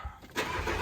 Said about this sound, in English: cranking the car